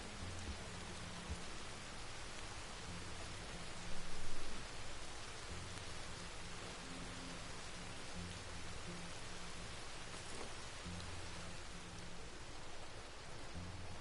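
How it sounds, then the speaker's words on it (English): Steady rainfall in Red Dead Redemption 2 Online, a constant even hiss of rain throughout with a faint low hum beneath and one brief louder bump, no speech. "It makes me incredibly curious what this place would look like after the rain's over."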